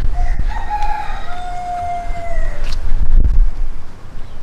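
A rooster crows once on a beach, a long drawn-out call at moderate distance, followed by wind buffeting and low rumbling noise.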